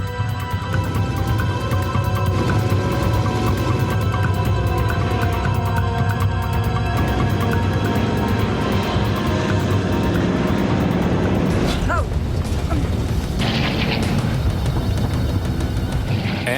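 An Air Midwest Flight 5481 airliner taking off, its engines roaring steadily and loud throughout, with a broadband rushing swell and shift in tone near the end as it climbs away.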